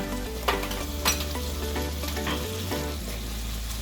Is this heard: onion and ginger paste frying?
yes